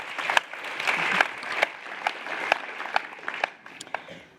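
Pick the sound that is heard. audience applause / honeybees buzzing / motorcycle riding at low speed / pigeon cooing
audience applause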